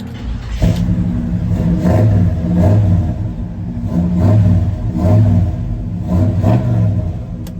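A 1973 GMC K10 4x4 pickup with a 468 big block V8 fires up and revs repeatedly, loud and close, with deep rumbling pulses rising and falling in a steady rhythm.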